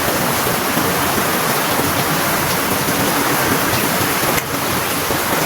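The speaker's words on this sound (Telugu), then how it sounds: "నీళ్ళు వేద్దాం" Water poured out in a steady stream, a loud, unbroken rushing splash that fills the whole stretch with barely a dip near the end.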